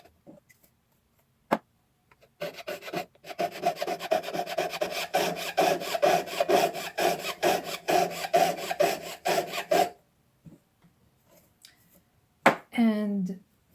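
A fine piercing saw rasps through a scribed line in quick, even strokes, close and steady for about seven seconds, with a few isolated taps before and after and a brief voiced sound near the end.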